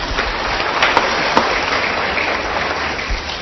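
A church congregation applauding, a dense even patter of many hands clapping for a few seconds, moderately loud and steady with no voices over it.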